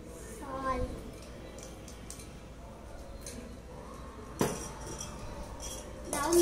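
A spoon clinks against a dish while a spoonful of salt is added to bhelpuri, with a few light metallic taps, a sharper clink near the end and a voice speaking quietly in the background.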